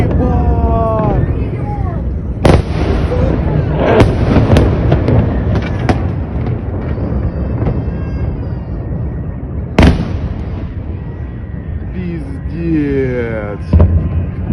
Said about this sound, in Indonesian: rentetan ledakan dari rudal Iskander M